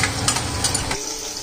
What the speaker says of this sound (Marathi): म्हणजे सगळ्या गोष्टी व्यवस्थित फ्राय झालेल्या आहेत.